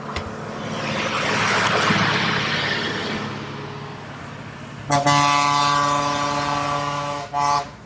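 Rumbling engine noise nearby, then a loud, sustained private bus horn blast lasting a couple of seconds, followed by a brief second honk, on a road between Valparai and Kodaikanal.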